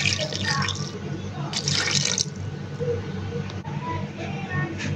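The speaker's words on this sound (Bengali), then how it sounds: "এবার দিয়ে দিব ঠান্ডা পানি।" Cold water pours into a blender jar over mango pieces, making a splashing, gurgling trickle that runs continuously for several seconds at close range with small fluctuations.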